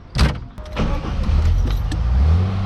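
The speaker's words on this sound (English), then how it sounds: "Let me close the door." A single solid thump as the door of a 1957 Mercedes-Benz 300 SL shuts, followed by a steady low engine rumble.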